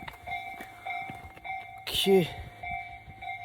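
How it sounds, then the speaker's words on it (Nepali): A train approaches on the railway, a steady rumble with sustained tonal whine and a brief louder swell, under someone talking nearby. "ट्रेन आएको जस्तो छ, तपाईँहरूलाई ट्रेन देखाउँछु अब।"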